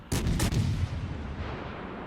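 Heavy warship guns firing in World of Warships Legends while playing the USS Dallas: two rapid booming blasts close together, followed by a long rumbling decay with no talk over it.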